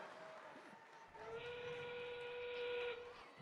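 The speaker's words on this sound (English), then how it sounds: "With 30 seconds left, that whistle means that it's the sound of our end game." A long steady whistle blast marks the end-game period at an FTC robotics qualifier match in Madison Heights, Michigan, sounding loud and sustained for about a second and a half over crowd noise in the arena.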